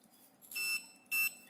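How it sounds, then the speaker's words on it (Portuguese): Multimeter continuity-test beep on an electrical panel: two short, high-pitched electronic beeps, close and clear over quiet room background. "E vou fazer o teste, ó. Primeiro, bip sonoro."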